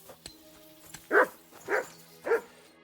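A dog in Kingdom Come: Deliverance 2 lets out three evenly spaced, fairly close barks over a quiet ambient game background.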